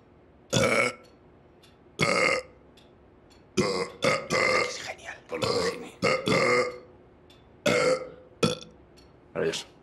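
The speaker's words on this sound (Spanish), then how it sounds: "la banda sonora de Star Wars a base de eructos" A woman performs the Star Wars soundtrack entirely in burps on a comedy TV show, a series of loud, bursty belches in uneven rhythm with short silences between, close and alone with no talk.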